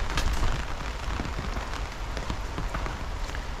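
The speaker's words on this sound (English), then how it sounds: "This rain's really going to help as well." Rain pattering steadily on the plastic cover of a polytunnel at an allotment, a dense, even hiss with scattered small drop taps, close by and with no talking.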